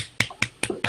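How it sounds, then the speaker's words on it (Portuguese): Sparse hand claps for a professor after a mathematics lecture at UNICAMP, four distinct close claps at a slow, even pace with brief quiet gaps between them. "peço para todo mundo uma batida de palmas para o professor"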